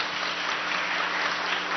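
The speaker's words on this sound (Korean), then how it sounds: "자, 박수." A church congregation breaks into applause during a Thanksgiving Sunday service, a brief burst of steady, soft clapping from a mixed crowd of adults and children.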